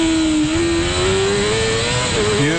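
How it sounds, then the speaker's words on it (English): A race car screams past at the Wanganui Cemetery Circuit street race, its engine loud and close, revving hard through the rev range with a steady rising pitch and a brief drop near the end. "You can really hear it revving out. He's using everything in the rev range."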